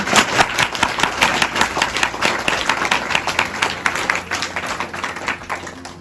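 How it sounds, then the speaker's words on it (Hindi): An audience at an annual day celebration claps loudly and continuously in a dense burst of applause that slowly thins toward the end, with no talking over it. "तो अपने इन्हें जोरदार ताली बजाएं।"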